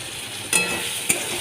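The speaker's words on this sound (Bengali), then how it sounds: "ভালো করে টমেটো তারপরে পেঁয়াজ কুচি ভেজে নিলাম" Chopped onion and tomato with ginger-garlic paste frying in a pan, with a steady close sizzle and two sharp clinks of a spoon against the pan.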